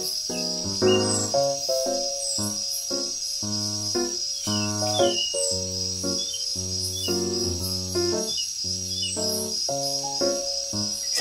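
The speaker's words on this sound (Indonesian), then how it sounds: "jangkrik jantan yang mengeluarkan suara keras" A male cricket chirps loudly in steady, repeated bursts, a continuous high trill running alongside strong rhythmic pulses throughout.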